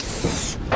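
A seal coat being sprayed onto a sign: a steady, close, loud hiss that cuts off abruptly near the end, then starts again briefly.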